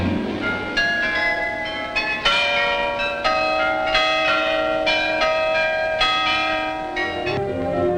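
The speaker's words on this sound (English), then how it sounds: "The real tower, centuries old, still times the village's life with its cheerful carillon" Cheerful carillon bells ring from the centuries-old bell tower of Monnikendam, a steady sequence of bright, resonant chimes striking roughly once a second with overlapping sustained tones throughout.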